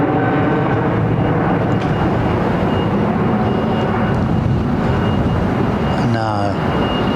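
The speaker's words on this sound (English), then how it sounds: "I know an A400 when I see one, and there it is right there," An Airbus A400 military transport flies past north of Heathrow, heading west: a broad engine roar with a tonal drone under continuous nearby talk.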